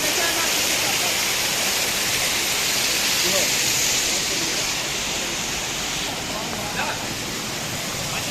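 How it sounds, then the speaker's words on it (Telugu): Continuous broadband rush of water flowing through the Maredumilli forest in Andhra Pradesh, loud and steady across the whole stretch, with no clear voices standing out. "వాటర్ ఎటు నుంచి వస్తున్నాయి సాయి?"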